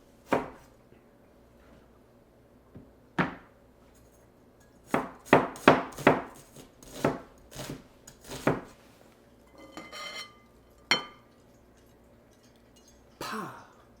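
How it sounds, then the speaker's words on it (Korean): Onion being finely chopped on a board, with a series of sharp knife knocks, some quick clustered strikes and others spaced out, quiet and close with pauses between. "양파는 최대한 잘게 썰어줍니다"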